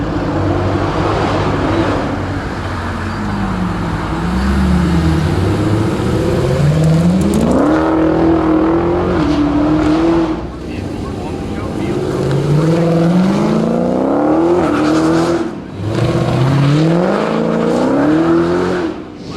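Dodge Hellcat cars with 707 horsepower are driven hard at a Chrysler Nationals event, their engines revving loud and close through repeated rising shifts, with talk over the top.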